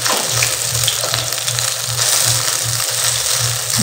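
Eggplant fritters (beguni) fry in hot oil with a loud, continuous crackling sizzle that stays close and unbroken from start to finish.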